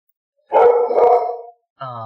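A dog's drawn-out howl with short bark-like breaks, loud and close, then a brief clear tonal sound at the end.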